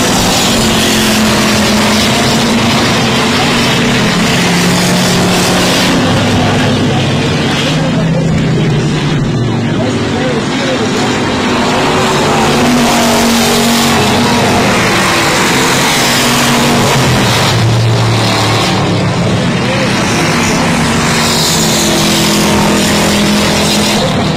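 Race cars roar around the oval at I-37 Speedway on the white-flag lap, a loud continuous engine drone that swells as packs pass close by, with faint commentary underneath.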